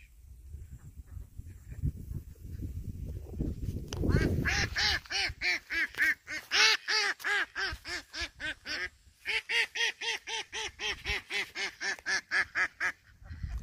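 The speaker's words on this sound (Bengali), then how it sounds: "এই যে দেখুন, এখানে হাঁস" Ducks on the water at Durgadih Dam in Purulia give a long run of loud, rhythmic quacks close by, following a few seconds of low rumbling noise.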